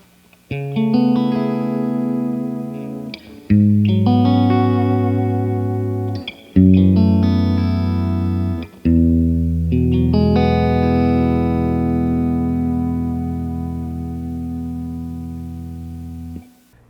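Electric guitar plays sustained, slightly overdriven chords through a tube amplifier, each ringing out with a light reverb tail.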